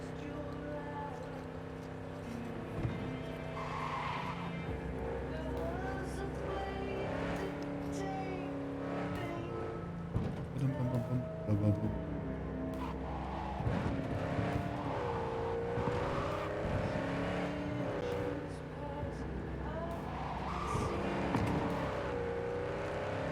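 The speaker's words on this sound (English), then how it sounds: "this car's so much easier to drive" A car drives in Cyberpunk 2077, its engine droning steadily throughout with occasional rising revs, mixed with background music and a voice.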